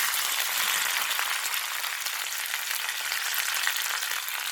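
Urad dal and curry leaves sizzle in hot oil for a South Indian curd rice tempering, a steady, bright crackling hiss that stays close and loud throughout with no talking.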